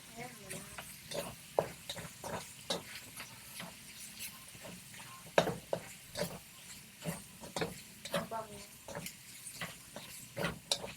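Ground meat sizzles and is stirred in a home pan at supper time, quiet sputtering hiss with scattered utensil scrapes and clicks running throughout, while people talk faintly in Filipino.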